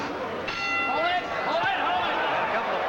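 A boxing round bell clangs at ringside during a Davey Moore bout, its ringing tones rising out of a loud, roaring arena crowd and announcer commentary.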